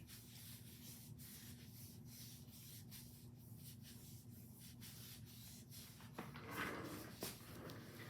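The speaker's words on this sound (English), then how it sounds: "Knuckle buffing, just back and forth." Hands rub back and forth over the skin of a foot in a knuckle-buffing reflexology massage, giving a steady soft sanding-like friction that continues without pause, with a slightly louder scrubbing burst near the end.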